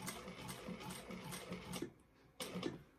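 A sewing machine stitches a bag seam in steady rapid bursts, pausing briefly for an adjustment before running again, close and clear with no talk.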